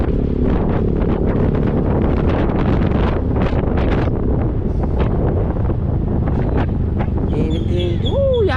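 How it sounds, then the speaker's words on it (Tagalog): Strong wind buffeting the microphone, a constant loud roar throughout with gusty fluctuations, and faint high chirps toward the end. "ang hangin guys"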